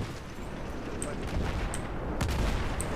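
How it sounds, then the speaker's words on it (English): Tank cannon fire in Battlefield 3, a couple of sharp broadband blasts over a constant low rumble of battle noise, fairly close and loud. "The tank's shooting at me."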